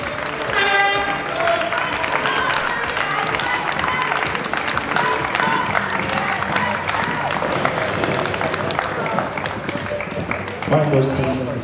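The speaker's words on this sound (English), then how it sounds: "round of applause." An audience claps for bikini competition contestants in a sustained run of applause, with music-like tones and voices mixed in that rise again briefly near the end.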